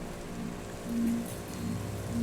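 Rain falls steadily in the video game Cloudpunk, a soft continuous patter spread evenly throughout, with faint brief tones drifting over it and no voices.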